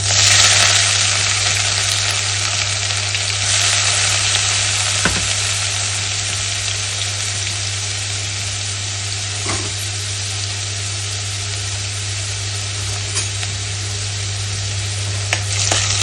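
Soaked rice roasting in hot ghee for a sweet rice kheer, a steady, loud sizzle that runs the whole time with a few faint knocks of stirring, and no voices.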